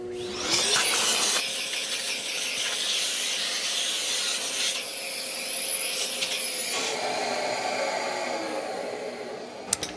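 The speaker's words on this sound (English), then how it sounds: "I'm going to vacuum this out." A shop vacuum sucks up brass chips left from cutting brass with a Shaper Origin handheld router, giving a loud steady whooshing hiss that shifts in pitch as the nozzle moves, with a brief clatter at the end.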